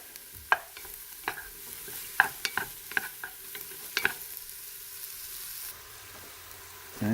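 Vegetables sautéing in butter in a pan for a sauce, with a steady soft sizzle and a series of sharp spoon-and-pan scrapes and taps from stirring, close by and without talk.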